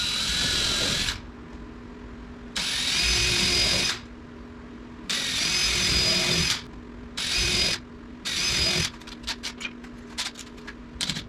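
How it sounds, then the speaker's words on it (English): A power drill drives screws into cabinet pieces in bursts of whirring, about five loud runs separated by short pauses, followed by a series of quicker clicks and taps. "pre-drill, clamp everything together,"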